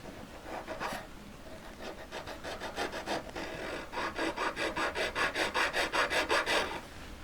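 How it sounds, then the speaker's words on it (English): Hand file working a marquise-shape collet in steady strokes, scattered at first, then a quick, even rasping rhythm of about a dozen close, crisp passes before it stops. "We're going to file it, tilting it towards the point."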